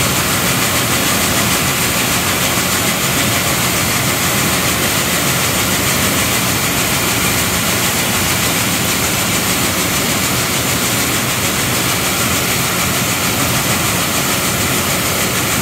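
A grain-cleaning machine working through organic soybeans, a loud, constant mechanical roar and rattling hum that never lets up, close by with no speech.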